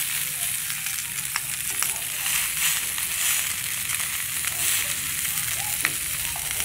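Carp being grilled, with a steady, close sizzle and crackle throughout and a few faint clicks from handling.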